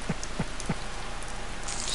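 Rain falls in the farming video game Harvest Moon as a steady hiss of drops, with three soft rhythmic thumps early on and a brighter splash of noise near the end.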